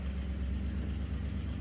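The engine of a 1959 Ford Skyliner, running on its first start with part of the exhaust removed, a steady low idling rumble close by with no talk.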